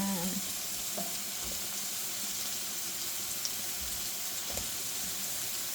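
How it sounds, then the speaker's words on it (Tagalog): Bell peppers and onion sauté in a pan with a soft, continuous sizzle, joined by a few brief clinks and stirring sounds. "Lagyan na rin natin ang sibuyas."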